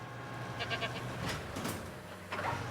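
A goat in a dinosaur park video game bleats a few short times over a steady low game ambience, the calls moderately close and separated by brief pauses.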